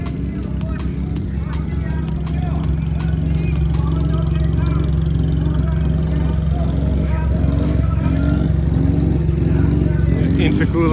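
Honda S660 K-car race car lapping Tsukuba circuit, a continuous buzzing engine note with shifting pitch and sharp clicks and pops, with someone speaking over it throughout.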